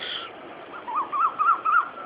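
Birds call outdoors in a short series of four or five rising, warbling notes, fairly loud and close, against a soft background hush with no talking.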